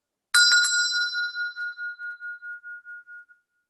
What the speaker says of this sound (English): I'm just going to ring my little bell here.